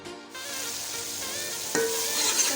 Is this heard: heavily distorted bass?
no